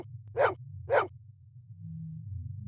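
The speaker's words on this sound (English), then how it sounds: "Who's the best dog in the whole world?" Two sharp barks from a dog named Maggie in the Blade Runner video game, about half a second apart and close, over a low steady hum.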